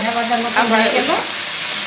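Fish with mustard and green chillies sizzles and spatters in hot oil in a home kitchen, a loud, dense, continuous frying hiss close up, with a brief voice-like tone mixed in.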